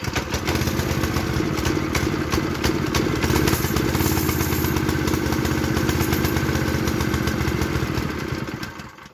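The small engine of a hacked-up, restored mini bike runs at a rough, loud idle up close, a steady clattering putter that holds throughout and dies away at the very end.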